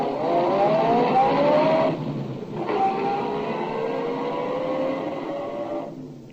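A car engine drives along steadily with a smooth rising drone that dips briefly midway and then carries on, as a radio drama sound effect with no talk over it.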